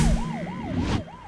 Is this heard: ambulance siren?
yes